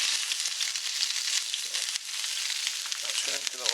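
Ingredients for a lamb curry fry in hot oil, giving a dense, continuous hissing sizzle that is close and steady, with faint stirring near the end and no clear speech.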